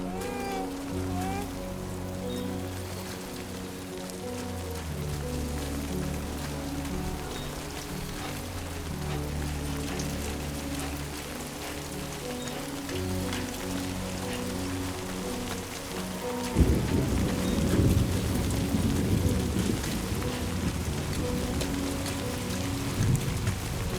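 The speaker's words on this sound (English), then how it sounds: "Great. Rain. Gotta move." Steady rain in Death Stranding 2: On the Beach patters throughout, layered with a sustained musical drone that gives way to a denser, rougher rush of rainfall in the last stretch.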